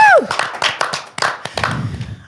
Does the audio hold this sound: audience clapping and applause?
yes